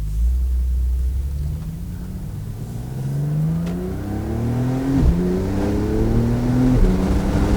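A 2019 Porsche 911 Targa 4 GTS pulls hard under acceleration, its engine tone climbing steadily, with quick PDK upshifts dropping the pitch before each climb resumes, a loud continuous cabin roar.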